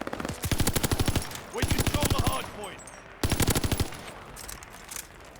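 Vargo-S rifle fire in the shooter Call of Duty: Vanguard, heard as three loud bursts of rapid automatic shots with quieter gaps between them.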